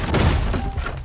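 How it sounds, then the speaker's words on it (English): Wooden barricade smashed apart in a survival video game, heard as a single close, heavy thud with a splintering crack, fading within about a second. "I broke the barricade"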